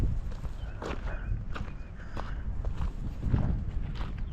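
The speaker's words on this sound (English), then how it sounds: "Hey, there the cows come." Cows' hooves clopping on the ground as several cows walk past, irregular steps at moderate distance with faint outdoor background.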